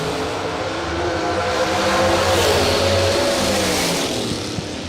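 A bracket-racing dragster at a drag strip launches and roars away, a loud rising engine howl that swells and then holds steady as it recedes across the run, with no one talking.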